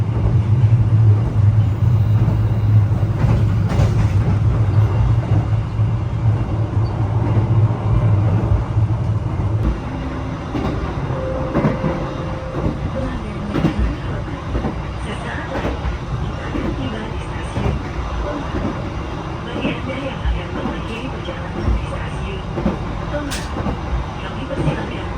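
Gumarang passenger train rolling along the rails at night, a steady low rumble with rhythmic clatter from the wheels, heard continuously from inside the carriage.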